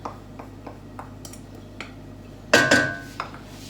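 Chopped onion tumbles into a pan slicked with a tablespoon of olive oil, a loud clattering burst after a few light clinks of kitchenware, then fading scrapes.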